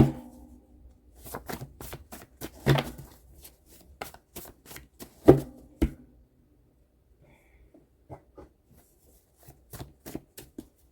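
Tarot cards shuffled and drawn by hand, with a dense burst of riffling flicks early on followed by sparser slaps and soft snaps of single cards, close and intimate with quiet pauses between.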